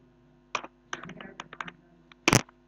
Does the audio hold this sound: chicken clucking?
no